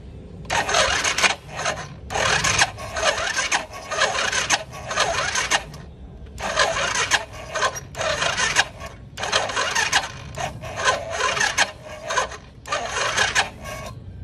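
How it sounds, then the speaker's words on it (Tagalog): A flood-damaged, neglected motorcycle with a worn engine block gives a harsh rasping scrape, repeated in rhythmic bursts of about a second each as it is turned over without starting, fairly close. "sa tunog pa lang malalaman mo na yung parang kumakaskas na palitin na block na ito"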